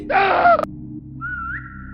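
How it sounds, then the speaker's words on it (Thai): A whistled tone in the Roblox game SCP-3008, a rising then steady pitch heard once, alone, after a brief loud burst of other sound. "ผิวปากดูครับ"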